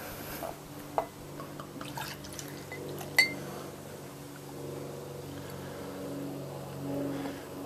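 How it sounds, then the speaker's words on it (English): S'mores Stout homebrew beer is poured from a bottle into a glass, a quiet steady gurgling and fizzing stream with a couple of faint clinks of glass, with no talking. "Let's go ahead and pour the S'mores Stout and see how it looks."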